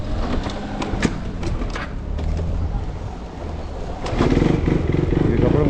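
A KTM Duke 390 motorcycle being started after stalling, heard as a close engine cranking and catching into a steady, rough idle that grows louder near the end.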